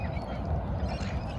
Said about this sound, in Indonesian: Orang lagi kasih makan burung.